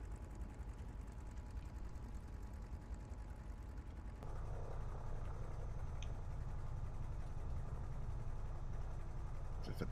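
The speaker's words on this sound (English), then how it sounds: "pressurizing the fuel tank, and priming the engine." Spitfire aircraft engine in Microsoft Flight Simulator, a steady mechanical whirring and rattling that steps up into a louder, rougher churn partway through as it starts up, with no voices.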